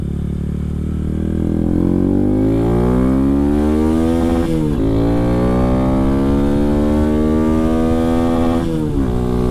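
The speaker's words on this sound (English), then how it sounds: "I'd like to go do a top speed run on the same place that I did last time." A 2022-2025 Honda Grom with new sprocket gearing climbs uphill at full throttle through its gears, engine pitch rising steadily then dropping at each shift, loud and close with wind rush.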